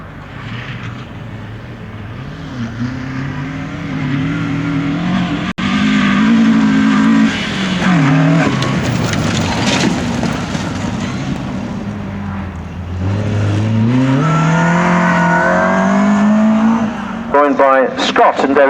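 Ford Escort Mark II rally car at Rally Rushmoor 2005, engine roaring loudly and continuously as it passes, revs rising and falling through gear changes, with crowd voices and other noise underneath.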